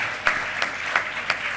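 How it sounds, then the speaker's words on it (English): Brief, soft applause from a church congregation for their pastor, a steady patter of clapping with a few sharper claps standing out. "Another round of applause to Pastor Paddy"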